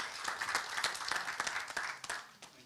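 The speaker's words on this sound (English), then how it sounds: "A round of applause as he takes the podium." An audience claps in a round of applause as a speaker takes the podium at a United Nations event, a brief, moderately loud patter of many hands.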